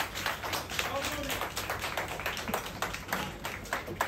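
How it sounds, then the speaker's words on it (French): Clapping at a youth event, heard as a quick run of irregular claps with sharp taps, close and fairly quiet, with voices underneath. "On peut vous applaudir."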